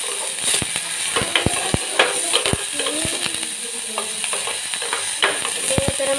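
Onions fry in hot oil with a steady sizzle while being stirred, giving close, irregular scraping and clinking over the constant crackle.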